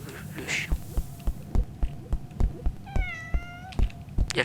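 A cat meows in the Roblox game Deadly Delivery, one clear drawn-out meow midway, set against a steady thudding pulse of regular heartbeat-like beats and a low hum throughout.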